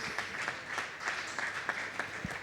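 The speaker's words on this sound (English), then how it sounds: "Please a big round of applause" Applause at a conference session on African business, a welcome for a guest from the Niger Delta, fairly faint, dense clapping with scattered sharper claps throughout the short stretch.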